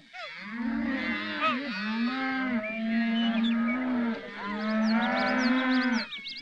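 Long, drawn-out cattle moos during a ranch roundup on horseback, several overlapping calls held for seconds, steady and fairly loud with no talking.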